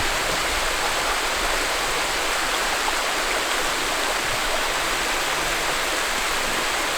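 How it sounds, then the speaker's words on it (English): Rock slide style waterfall on a camping trip, water rushing over rocks into a pool with a beaver dam at the bottom, a steady, loud, close wash of noise with no voices. "this one's more of like a rock slide type of a falls"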